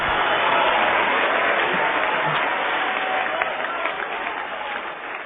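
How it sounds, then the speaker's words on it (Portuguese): A church congregation claps together in a dense, steady wash of applause from a crowd, fading slightly toward the end. "Vamos aplaudir muito o nosso Senhor."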